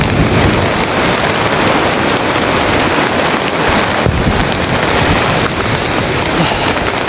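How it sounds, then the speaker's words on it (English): Heavy rain pours relentlessly onto an MSR Elixir 1 tent during a stormy wild camp, a loud, dense, unbroken hiss close overhead with no voices. "It's absolutely chucking it down."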